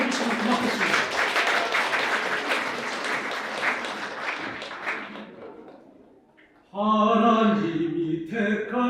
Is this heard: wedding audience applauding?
yes